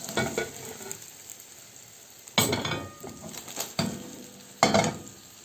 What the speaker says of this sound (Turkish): Altı da kızarıncaya kadar orta ateşte pişireceğim.